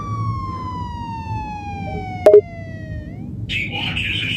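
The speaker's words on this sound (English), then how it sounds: "police sirens can be heard in the background." Distant police sirens wail in the background, a falling tone that sweeps downward for about three seconds, followed by a brief sharp clatter and a higher electronic tone at the end.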